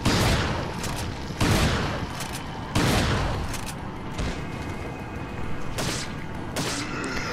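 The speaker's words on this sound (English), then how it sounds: "And then we are going to shotgun this guy in the face." Resident Evil 4 gameplay with a shotgun fired at an enemy, several loud booming blasts spaced a second or two apart, each followed by a decaying rumble, over a low game backdrop.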